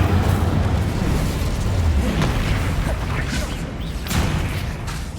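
Confringo spell blasts go off in the Hogwarts Legacy video game, a run of booming fiery explosions and crackling bursts in quick succession, dense and loud throughout.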